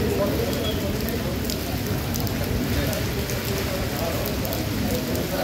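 Heavy storm rain falls steadily across the city of Dubai during a sudden squall, a dense continuous hiss of drops on surfaces filling the whole stretch without pause.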